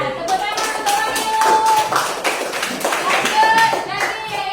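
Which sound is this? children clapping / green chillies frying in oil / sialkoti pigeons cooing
children clapping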